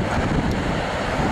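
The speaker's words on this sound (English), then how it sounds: "This has got to be one of the most spectacular waterfalls I've ever seen in my life." A huge Icelandic waterfall roars in a loud, steady, unbroken wash of rushing water, close and constant, with no voices.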